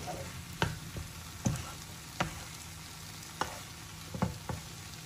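Mushrooms cooking in a pan for mushroom masala, giving a steady low sizzle as they release water, broken by a few sharp clicks and scrapes of stirring.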